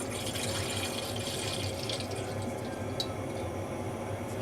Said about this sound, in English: So I'm just pouring the milk.